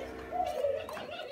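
Spotted doves coo in a short, soft, low call, a pair of birds kept for hand-feeding, heard close with faint background noise.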